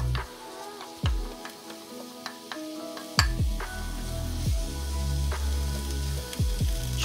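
Two finely chopped onions hit a generous pool of olive oil, with soft frying hiss under loud knocks and clatters of a pan and utensil, including sharp bangs at irregular intervals.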